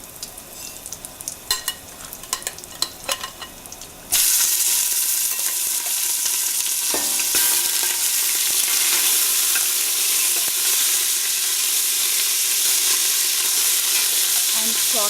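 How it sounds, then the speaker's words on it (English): Meat roasting in whole spices in a hot pan for rogan josh with asafoetida: a few scattered clinks and stirs, then a loud, steady broadband sizzle that starts abruptly and continues evenly to the end, with no talk. "I'm going to start roasting my meat in these full spices"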